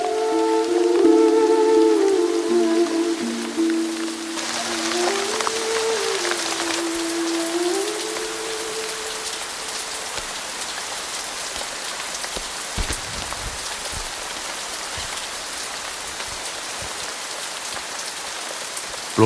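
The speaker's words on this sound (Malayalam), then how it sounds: "ധനുമാസത്തിൽ ഇങ്ങനെ ഒരു മഴ പതിവില്ലാത്തതാ." Heavy rain pours down in a steady, loud, dense hiss that lasts throughout, with sustained melodic music tones layered over it for the first several seconds before the downpour continues alone.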